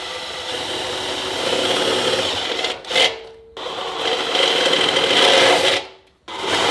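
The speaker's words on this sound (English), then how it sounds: "So I'm gonna drill right here in the middle." An electric drill grinds steadily through metal, close and loud, drilling a hole in the middle of an air cleaner lid on a 305 TBI engine, cutting out briefly twice before starting again.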